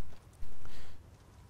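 Horse hooves clip-clop in the Elder Scrolls Online video game: a brief, quiet run of soft hoof falls on the ground, lasting under a second against faint background ambience.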